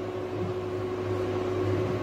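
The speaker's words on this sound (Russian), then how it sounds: "Шумит плита, шумит посудомойка, моется." Kitchen stove and dishwasher running at once, a steady mechanical hum with a constant tonal drone and a low washing rumble, close and unchanging.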